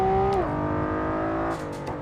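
A Honda NSX GT2 race car engine in Assetto Corsa drones steadily at high revs, dipping in pitch as it shifts, then holding a loud continuous roar throughout.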